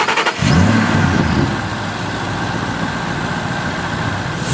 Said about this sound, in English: Now start up the car.